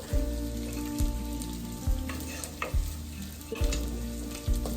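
Flour and bacon fry in a pan over medium heat, a steady close sizzle with a bassy thump from stirring about once a second.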